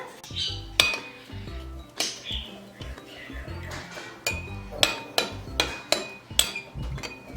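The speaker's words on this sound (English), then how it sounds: "we're going to give it a little mix here" Gelatin stirred into water in a bowl, a spoon clinking and scraping against the sides in a steady series of sharp taps, close and fairly loud, with a person talking softly at times.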